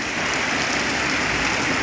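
Dense, steady winter downpour in Lampang, Thailand, hissing continuously, heavy rain falling hard with no pauses and no voices.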